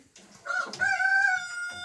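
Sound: rooster

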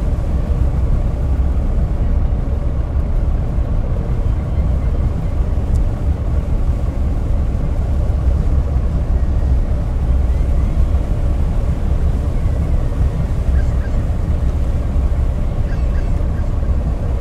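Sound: ship sailing on the ocean in the video game Fishing: North Atlantic

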